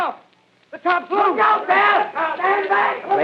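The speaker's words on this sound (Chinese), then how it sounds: "现场传来了混乱的人群声音，有些人在喊后退，后退" A chaotic crowd of many voices shouting over one another, some yelling to move back, loud and continuous after a brief quiet opening, like a panicked scene in the 1938 War of the Worlds radio drama.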